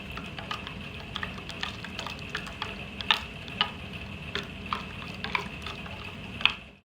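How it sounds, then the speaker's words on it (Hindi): A spoon clinks repeatedly against the inside of a cup while stirring tea, with light irregular taps over a faint background hiss. "ये चम्मच की मदद से अब इसको मैं अच्छी तरह मिक्स कर लूँगी।"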